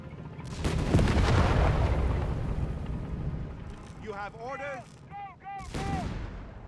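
Gunfire and grenade blasts in the Company of Heroes 3 strategy game rattle and boom in bursts, with short whistling, chirping game effects near the end and a commentator talking throughout.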